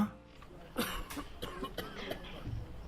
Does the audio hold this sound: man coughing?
yes